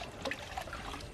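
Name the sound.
water being poured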